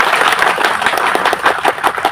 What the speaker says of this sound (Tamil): அவருக்கு ஒரு மிக பெரிய கைத்தட்டல் இருக்கு